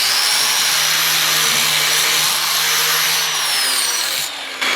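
Angle grinder dressing the edge of a steel lawnmower blade clamped in a vise, a loud continuous high-pitched grinding whine with steady pitch that drops away near the end.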